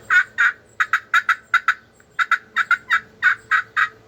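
Turkey yelps played on a 4-inch pot call with a striker ring out close and clear in quick evenly spaced runs of sharp raspy notes, about fifteen in all with a brief pause midway.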